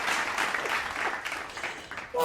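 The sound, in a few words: applause sound effect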